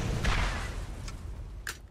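Explosions in the video game Borderlands, a few booming blasts with noisy bursts, the first heavy and two shorter ones following within two seconds.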